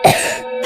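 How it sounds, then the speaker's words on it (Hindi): A scientist character in an animated story coughs once, a short throaty cough and throat-clearing rasp, close and fairly loud, alone. "नोना और बाकी साइंटिस्ट कोरोना वायरस की चपेट में आने के बाद खांसने लगते हैं"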